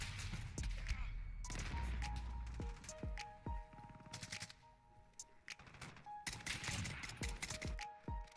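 Bursts of rapid gunfire from an AX50 rifle, single shots and fast volleys, crack sharply over a busy game soundscape with musical tones in the background.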